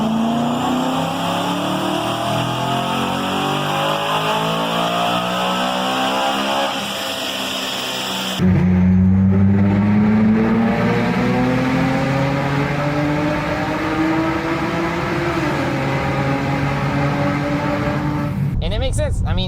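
A BMW with the naturally aspirated N52 straight-six drives under steady load, its engine tone rising smoothly, dropping with a gear change, then climbing again, loud and continuous throughout.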